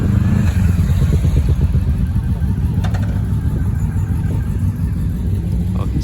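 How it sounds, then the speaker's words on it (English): A single-cylinder 250 motorcycle thumps loudly and steadily nearby, a dense low rumble with faint rattles over a constant engine drone and no voices. "I'm assuming that's quite a new bike. So a single cylinder 250."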